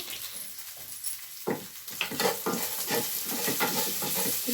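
Bitter gourd fry stirred in a pan with salt and a pinch of turmeric, a soft, close sizzle under irregular scraping and shuffling strokes that grow busier toward the end.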